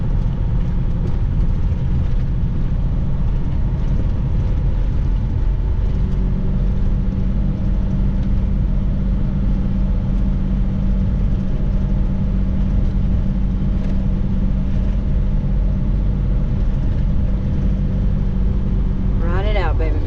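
A semi-truck carrying about 44,000 pounds descends a 9% downgrade with its Jake brake engaged, giving a steady, loud engine-brake rumble that holds for the whole stretch, with a voice talking over it.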